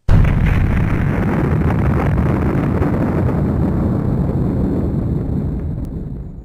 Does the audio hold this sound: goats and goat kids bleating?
no